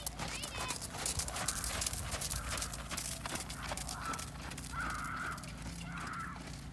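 A horse moves around a 15-meter circle in an outdoor riding lesson, its hooves clip-clopping steadily beneath an instructor's voice, with crows calling faintly in the background.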